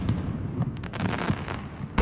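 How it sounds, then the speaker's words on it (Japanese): Fireworks bursting and crackling over a New Year's Eve celebration in an anime scene, a dense run of booms and pops filling the whole stretch, with a loud final burst at the end. "花火とか打ち上げて。"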